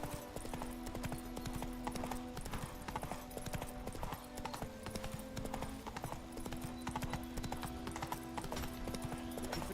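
Roach, a horse in The Witcher 3, clip-clops along with steady, rhythmic hoof strikes that continue throughout. A faint background tone from the game sits under the hooves.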